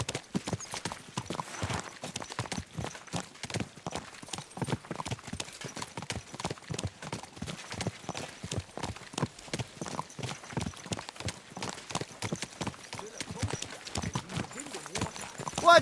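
Steady clip-clop of horse hooves from the medieval game Kingdom Come: Deliverance II, a brisk, regular rhythm of close, distinct hoofbeats running throughout at a trot, with faint voices briefly over it.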